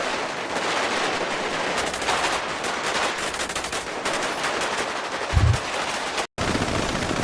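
Rapid bursts of automatic gunfire rattle through a GTA V roleplay shootout, dense and close, with repeated volleys and a louder low thump near the end.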